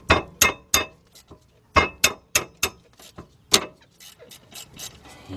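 A regular ratchet clicks and clanks against the rear brake bolts of a 2007 Honda Accord, giving sharp close metallic ticks in quick bursts, then quieter scattered clinks near the end.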